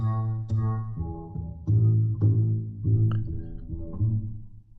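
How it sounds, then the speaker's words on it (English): Upright bass in a Logic Pro mix with default Chromaverb room reverb: a series of deep plucked notes in a walking rhythm, each with a soft reverberant tail, played alone and up close. "Sounds like an upright bass, but with a little bit of reverb in it."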